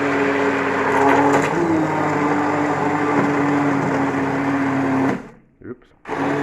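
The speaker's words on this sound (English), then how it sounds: "So we'll see if the stick blender does it." A stick blender purees fresh ginger for homemade ginger beer, a steady loud motor whir running nearly five seconds before cutting out, followed by a couple of brief clatters.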